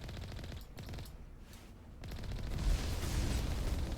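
Turret gunfire in the Carl 2.0 mod of a video game, a dense continuous barrage of rapid shots that swells louder and harsher in the second half, with no voices over it.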